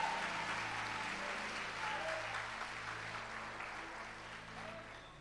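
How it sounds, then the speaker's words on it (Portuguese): A church congregation claps together in steady, dense applause, moderately loud and slowly fading, with faint voices underneath. "Os que podem, tomem o seu assento aplaudindo a Jesus"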